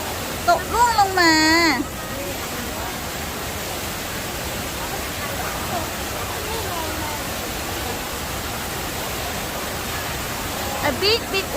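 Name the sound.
waterfall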